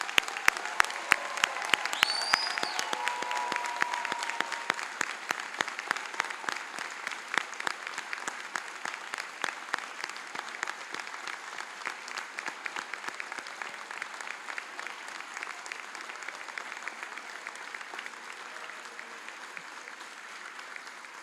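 Large audience applauds graduates at the STU summer convocation 2022, a long sustained patter of many hands in a big hall, a few sharp close claps at first, then a steady, even wash that gradually softens.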